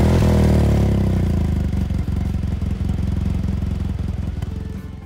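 A motorcycle engine runs loud and close on a mountain road, a strong rumble that settles into a steady pulsing idle-like throb and slowly fades near the end.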